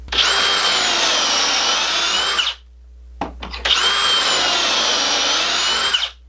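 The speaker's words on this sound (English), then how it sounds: "we need to make some pocket holes on one end of each of these boards" Power drill boring pocket holes into the ends of 2x4 wood boards, two sustained high-pitched whining runs of about two and a half seconds each, separated by a short pause with a brief clunk, loud and close.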